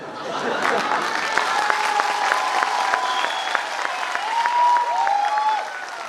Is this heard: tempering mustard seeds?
no